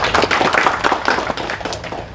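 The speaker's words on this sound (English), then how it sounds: "a big round of applause to Leela." An audience at a concert event claps in a steady, dense patter, with no voices standing out over it.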